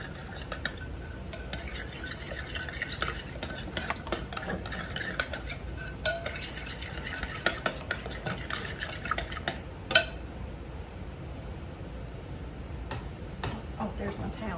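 Spoon stirring a cream soup mixture for a cabbage casserole in a bowl, giving steady scraping and clinking through the whole stretch, with a few sharper knocks against the bowl.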